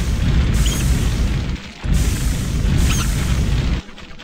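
Flamethrower in the shooter Blade of Agony, fired at scorpions in Tunis: a loud, continuous roaring blast that runs in two long bursts with a brief gap between them, then cuts off abruptly.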